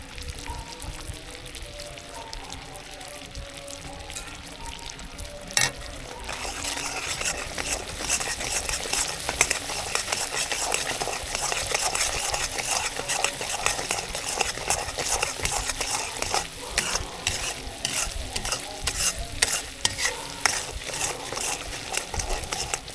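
Sugar syrup (chashni) for shakarpara simmers while a spoon stirs it, a steady bubbling hiss with scraping and clinks that turns louder and busier after the first few seconds and continues without voices.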